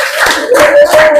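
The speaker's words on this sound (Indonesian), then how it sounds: "sekali lagi beri aplaus untuk kelompok terakhir 5" Audience applause for the fifth and final presenting group in a classroom session. The clapping is loud and close but lasts only a brief burst, with a voice audible over it.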